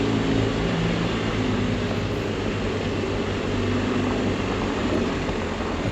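A drone sound effect for a sound design edit, a steady loud droning hum with a dense low rumble that holds level for the whole stretch without any voices.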